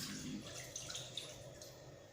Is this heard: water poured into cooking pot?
yes